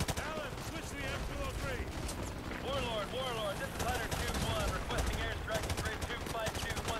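Gunfire in the remastered Modern Warfare 2 on hard difficulty, repeated bursts of shots with explosions and battlefield noise, mixed under a player talking and in-game voices.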